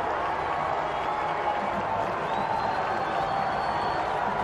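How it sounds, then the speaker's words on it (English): A stadium crowd at a college football game, Georgia Southern at Wofford in Gibbs Stadium, keeps up a steady roar of cheering, moderately distant and unbroken. "Now the crowd from the Wofford sideline here at Gibbs Stadium, they're on their feet making the most noise they've made all afternoon."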